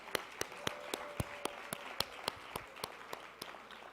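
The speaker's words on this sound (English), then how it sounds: "Give yourselves another round of applause." Audience applause at a gala dinner, scattered sharp claps over a steady crowd rustle, moderately loud and continuous for a few seconds with no talking.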